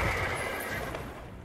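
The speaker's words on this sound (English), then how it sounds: "Sound effects as well for the horse." A horse neighs in A Game of Thrones: Digital, a loud, dense whinny heard alone over a full, steady background for about a second and a half.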